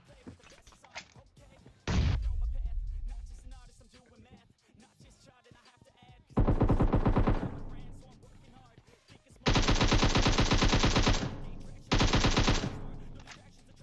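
Bursts of rapid automatic gunfire from the video game PUBG ring out in several loud sustained volleys, separated by quieter stretches with faint background noise.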